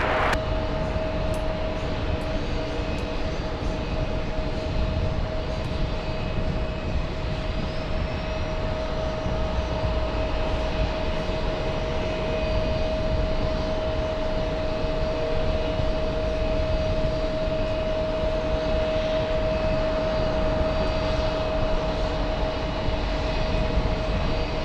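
A heavy airliner on approach to land on runway 22 left at JFK airport, its engines a steady, loud drone with a high whine that holds for the whole stretch, no talk over it.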